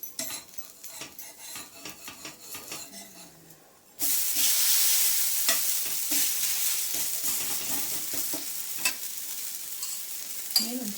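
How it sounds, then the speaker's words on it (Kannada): Dosa sizzles and fries loudly on a traditional iron tawa, a steady hiss that starts abruptly after a few seconds of quieter scraping and spatula clinks, with metal taps as the dosa is flipped; no talk. "ದೋಸೆ ಮಗ್ಚೋಣ ಇವಾಗ."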